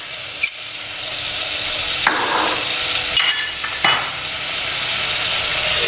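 Red onion, carrot, spring onion and peppers sizzle steadily in a hot pan, with a few sharp clanks and scrapes as they are stirred, close and fairly loud.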